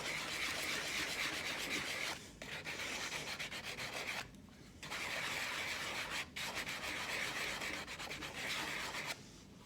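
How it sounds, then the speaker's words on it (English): Continuous hand sanding of wooden end grain with 80 grit sandpaper in a circular motion, a loud, steady rough rasping that breaks off into brief pauses around two, four, six and nine and a half seconds. "Give the end grain a little bit of a sand now. I'm just using some 80 grit sandpaper."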